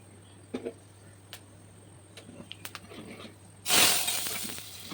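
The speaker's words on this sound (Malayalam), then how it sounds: "അതേ കടുക് വറുത്ത് ഒഴിക്കട്ടെ അതിനകത്ത്" Scattered sharp pops and clicks, then a sudden loud burst of sizzling crackle, like mustard seeds hitting hot oil, that keeps hissing to the end.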